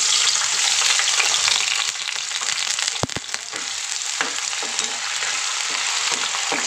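Potatoes frying in hot oil seasoned with bay leaf, whole garam masala and cumin, a steady loud sizzle with occasional stirring clatter, close and continuous with no talking.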